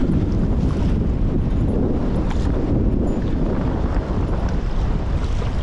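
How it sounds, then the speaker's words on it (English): Strong storm wind roars steadily across the microphone on an Old Town Sportsman 106 PDL pedal kayak out on open water, a loud continuous buffeting rush with a little water noise underneath and no talking. "Got some strong wind."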